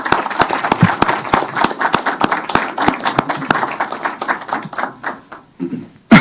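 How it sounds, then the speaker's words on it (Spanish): An audience at an international education conference in Colombia applauds to welcome a speaker, with loud, sharp, irregular claps close by that thin out and fade near the end. "con un fuerte aplauso, por favor, recibamos al doctor Jaime Alberto Leal Afanador"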